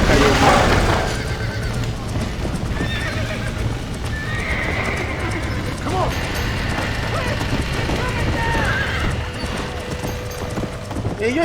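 Horses in the video game Red Dead Redemption gallop with steady clip-clop hoofbeats and let out neighs and whinnies over busy game sound throughout.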